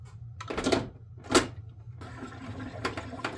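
A SodaStream machine releases short hissing bursts of bubbling water, two sharp gushes followed by a longer fizzing stretch and a faint final spurt, close up with no voices.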